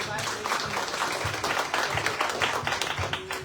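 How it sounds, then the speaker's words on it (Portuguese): Congregation clapping in a church service, brisk and dense, with a voice talking over the applause throughout. "Aplauda ao Senhor."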